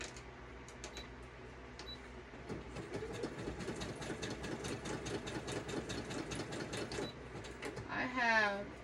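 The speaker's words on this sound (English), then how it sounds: "I have a Brother sewing machine, and it has a bunch of different stitches" A Brother sewing machine stitching around a paper journal pocket, a steady rapid mechanical chatter running for several seconds at moderate level, with a brief burst of other sound near the end.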